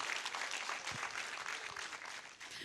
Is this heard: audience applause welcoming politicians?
yes